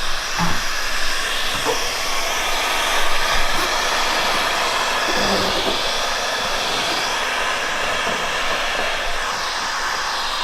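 Heat gun blowing a steady, loud hiss of hot air over vinyl wrap on a car hood, with a few soft knocks and handling noises underneath.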